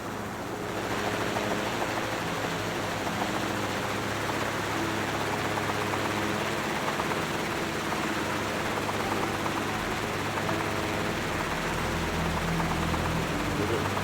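Aircraft engine in the video game Microsoft Flight Simulator 2024, a continuous loud droning roar with a steady rotor-like throb, unbroken from start to finish with no talk heard.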